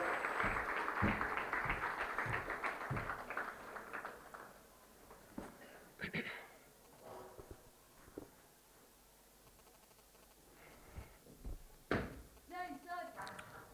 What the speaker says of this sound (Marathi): जोरदार टाळ्या वाजवून आपण तिचं कौतुक करूया.